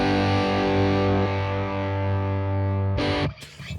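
Distorted electric guitar tone run through two amp profiles blended with a 0.8 ms delay, a sustained chord ringing loud and steady before cutting off, followed by a brief burst of noisy strumming at the end.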